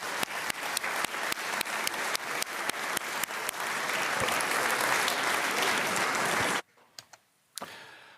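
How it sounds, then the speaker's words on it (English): Applause for a panel at the Munich Security Conference, a dense, loud wash of clapping with sharp individual claps standing out, then cutting off abruptly into near silence with a few stray claps. "let's give a great round of applause to our panel today"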